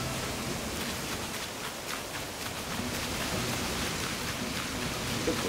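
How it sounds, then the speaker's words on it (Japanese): Rain falls in Animal Crossing: New Horizons, a steady, soft hiss of patter spread evenly throughout, with no voices over it. "僕の島はね、雨が全く降ったことがないんで、これ雨が降ってるのが新鮮で"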